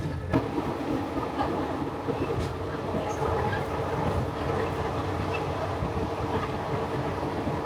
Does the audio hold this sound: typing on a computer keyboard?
no